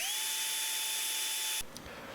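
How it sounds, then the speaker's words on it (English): A hair dryer blows hot air over fresh paint on a fishing lure, a loud steady whirring drone with a constant whine that cuts off abruptly near the end, leaving quiet room noise and small handling clicks. "Make sure you hair dry your paint so you don't rub it off."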